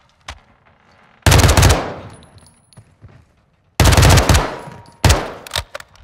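Automatic gunfire in the video game Call of Duty Modern Warfare 2: two loud sustained bursts of rapid shots, with a shorter third burst near the end and quiet gaps between.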